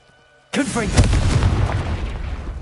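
Confringo blasting spell in Hogwarts Legacy, a sudden loud explosive boom after a brief quiet moment, followed by a rumbling decay and crackle, with speech mixed in.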